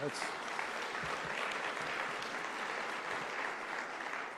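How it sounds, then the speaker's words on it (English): Applause at a formal Ontario government event honoring the Attorney General, a sustained, fairly distant roomful of clapping with some voices mixed in. "let's clap for the Attorney General."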